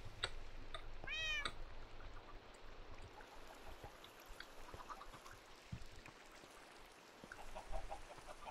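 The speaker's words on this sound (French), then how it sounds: "t'es où le chat? Viens encore le chat." A cat in Minecraft meows once, faint and brief, in the first seconds, followed by soft farmyard clucking and quiet ambient game sounds with no talking.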